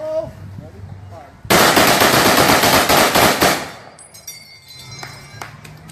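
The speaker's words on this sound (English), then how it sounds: "That ping you heard is the M block ejecting." At an outdoor WWII weapons demonstration, M1 Garand rifle fire erupts in a loud, rapid string of sharp cracking shots lasting about two seconds, then fades into faint metallic ringing as the en-bloc clip ejects with a ping.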